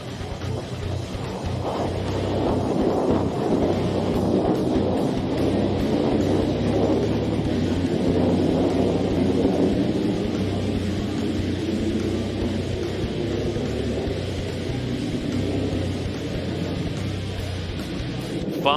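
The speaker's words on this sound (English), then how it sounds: "Inbound of the break, high and overhead, here's the F-35A Lightning IIs." F-35A Lightning II jets pass high overhead at the Aviation Nation air show at Nellis, a broad, sustained roar of jet noise that swells and slowly shifts in pitch for nearly twenty seconds.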